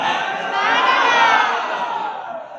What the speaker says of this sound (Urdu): حضور کے نام کے نعرے لگا رہے ہیں